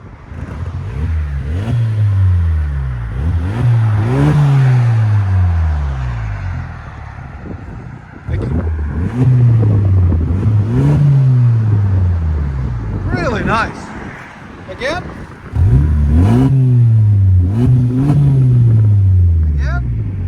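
A 2023 Hyundai Santa Cruz revs repeatedly with its exhaust cutout valve open, loud rising and falling blips in bursts, close to the tailpipe with wind buffeting, while people talk briefly between revs.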